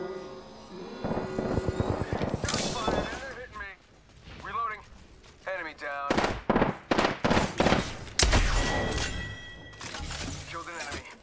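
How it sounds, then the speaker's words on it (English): Gunfire from the Apex Legends video game comes in several sharp bursts and rapid volleys, mixed with crashing, shattering impacts and other in-game effects. "Opening fire."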